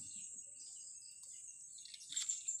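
Thin, high-pitched chirps and squeaky calls from a small blue-crowned hanging parrot, fairly faint, with a brief louder burst of twittering near the end.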